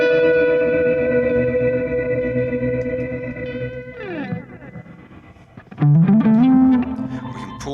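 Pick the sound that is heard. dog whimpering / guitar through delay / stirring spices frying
guitar through delay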